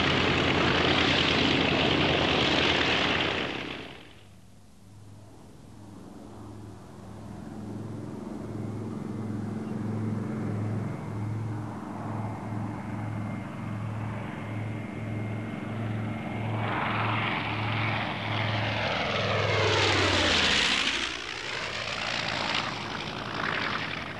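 A bomber carrying a Goblin parasite fighter in its bomb bay taxis for takeoff, its propeller engines droning with a steady pulsing throb that swells into a louder roar and pitch sweep as it passes near.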